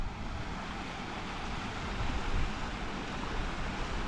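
Ruddy Gill, a dramatic mountain stream in the Lake District fells, rushes steadily as broadband water noise, with some wind buffeting the microphone.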